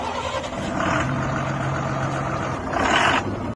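An Ashok Leyland bus diesel engine idles steadily with a low, continuous rumble and a faint hum, its pitch holding even throughout, with a slight swell near the end.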